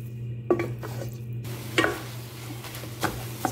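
Chicken browns in a hot pan with a low, steady sizzle, broken by a few sharp scrapes and clinks of a utensil stirring against the pan.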